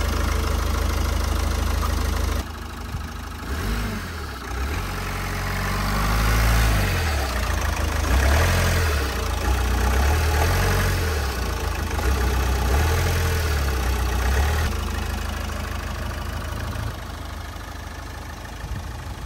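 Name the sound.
used car engine idling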